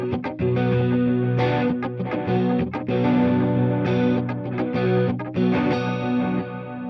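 Clean electric guitar tone through a 666 millisecond stereo delay, with plucked notes and chords ringing in a steady rhythm and echoes trailing behind each attack, loud and up close with no voices.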